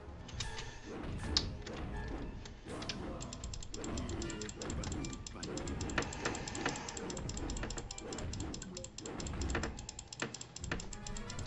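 Rapid computer mouse clicking during Psychonauts gameplay, a dense run of sharp close clicks over a steady game soundtrack, with no talking.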